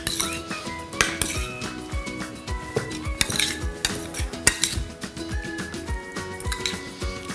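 Avocados being mixed with lemon juice in a bowl, a utensil scraping and clinking against the dish in an irregular, close-up series of knocks and taps with no talking.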